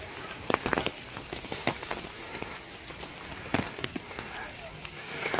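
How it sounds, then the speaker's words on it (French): Rain falling during a trip in Japan: a steady patter of drops on surfaces with scattered sharper taps, while people talk nearby. "reportage, il pleut"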